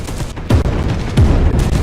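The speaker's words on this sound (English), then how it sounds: "Yeah, that was a missile." Missile fire in the Space Hulk Deathwing game, with loud booming blasts and rumbling impacts in quick succession over continuous low-end battle noise.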